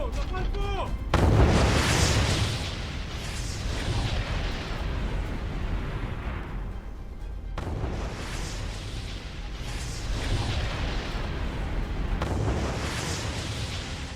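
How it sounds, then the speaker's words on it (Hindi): Bombs explode during an Israeli strike on Tehran: a heavy blast opens, followed by long rolling rumbles and scattered sharp bursts that rise again midway, loud and reverberant. "इजराइल ने तेहरान पर बमों की बौछार कर दी।"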